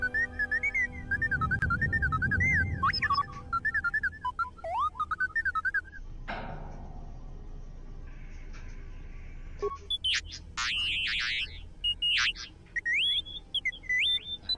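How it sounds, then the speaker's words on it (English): A utility droid in a video game gives a run of warbling electronic whistles and chirpy beeps, rising and falling in pitch, then a burst of noise and more rapid, higher beeping. "A series of low-pitched whistles and beeps. Sounds as if there's a utility droid on the other end."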